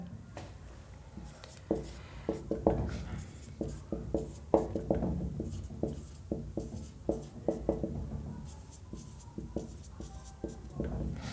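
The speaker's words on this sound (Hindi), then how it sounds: "एक और ऑप्शन लिख देता हूं पहले मैं" Marker or pen strokes writing out the answer options to a maths question, a steady run of short scratchy taps and lines, close and fairly clear, with no talking over them.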